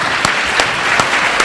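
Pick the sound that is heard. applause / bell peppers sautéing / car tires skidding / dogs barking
applause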